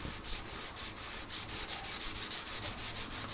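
A handsaw blade is sanded by hand with 150-grit sandpaper, giving a close, steady rhythmic rasp of quick back-and-forth strokes with no talking.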